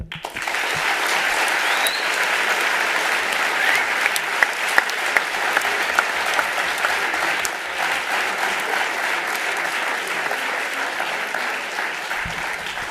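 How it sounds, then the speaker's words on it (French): Sustained applause from a large audience, steady and loud for the whole stretch, with no voices standing out. "je crois qu'on peut encore les applaudir"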